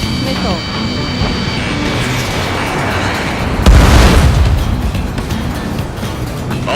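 Missiles explode in the Ace Combat 7 flight game, one heavy boom rising out of steady jet engine roar, loud and close, with game effects running throughout.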